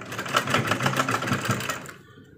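A sewing machine stitches a belt onto a skirt, a close rapid mechanical whirring and clattering that runs for about two seconds and then stops abruptly.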